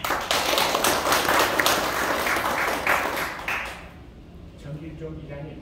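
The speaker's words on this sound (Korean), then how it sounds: "박수로 부탁드립니다" An audience at the founding general meeting of a nonprofit association bursts into dense, lively applause for a few seconds. It then thins out and fades as a nearby voice begins to speak.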